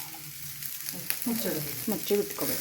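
Okra shallow frying in a little oil over a low flame, a soft steady sizzle beneath someone speaking close by.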